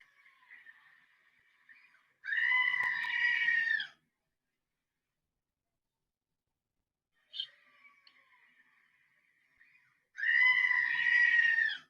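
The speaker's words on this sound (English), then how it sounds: "We're going to record the screaming goat." A screaming goat plays back through a small phone speaker in two loud, harsh, bleating screams separated by silence, each preceded by a faint thin bleat, tinny and close.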